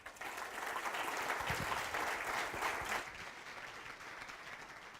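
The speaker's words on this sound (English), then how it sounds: "Can we give them a round of applause?" Quiet, fairly distant applause from the audience at a panel session on IT in higher education, steady clapping for about three seconds that then fades to a low murmur.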